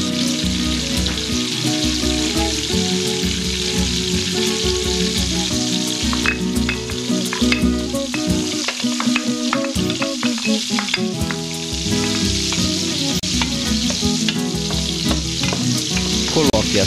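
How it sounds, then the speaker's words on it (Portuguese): Garlic fries in hot margarine with a loud, steady sizzle that runs throughout, broken by frequent clinks and scrapes of stirring close by. "Esquente a margarina e frite o alho."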